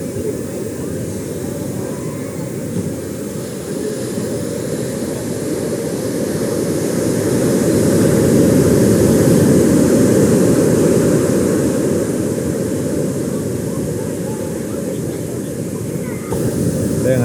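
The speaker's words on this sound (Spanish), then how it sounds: "aviones pasando, algunas estrellas." Airplanes pass overhead at night by Santa Monica Pier, a steady broad roar that swells to a peak midway and then fades, blended with wind and ocean surf.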